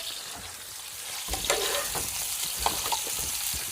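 Food sizzles steadily in a pan while a utensil stirs it, with irregular scraping strokes over a continuous frying hiss in a home kitchen.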